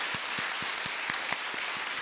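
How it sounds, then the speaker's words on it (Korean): Congregation applauding during a Sunday church service, a dense, even wash of many hands clapping at a steady moderate level, heard from a little distance with no voices over it. "큰 박수로 사랑을 보내주시면 좋겠습니다"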